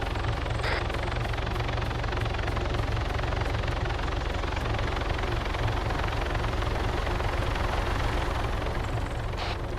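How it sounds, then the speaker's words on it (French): In a video game, a helicopter lands at a car dealership, its rotor thumping loudly and steadily in a dense, continuous roar close by, with no talk. "Vous avez un hélicoptère qui se pose au concessionnaire."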